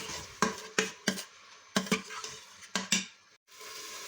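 A spoon stirs tomato paste and tomato sauce into sautéed onions inside an Instant Pot, making a run of quick, close scraping strokes against the metal insert, each with a soft wet squelch, before a brief pause.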